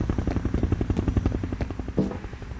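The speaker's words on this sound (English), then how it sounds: "It's a helicopter." Loud, rhythmic thudding of helicopter rotor blades chopping close by in the video game F.E.A.R., steady and heavy throughout.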